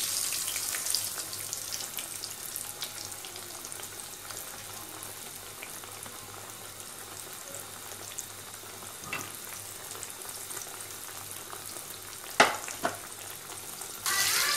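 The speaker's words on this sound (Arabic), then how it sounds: "هنروح بقى مع بعض كده نقليه مع بعض في الزيت" Flour-coated eggplant slices frying in hot oil, a continuous moderate bubbling sizzle with faint utensil clinks and one sharp clatter toward the end.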